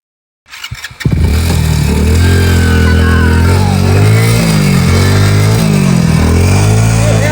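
A motorcycle engine starts up loudly at close range about a second in, then keeps running at a strong, steady throb with slight rises in revs as it pulls away.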